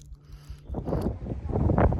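Gusty wind on a Shenandoah mountain trail buffeting the microphone in low rumbling bursts, growing stronger toward the end.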